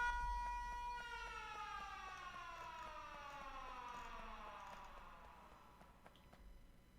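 In the video game Factorio, a siren alarm wails in a long descending tone with layered harmonics, heard at moderate level and gradually fading, with no talking over it.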